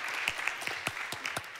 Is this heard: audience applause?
yes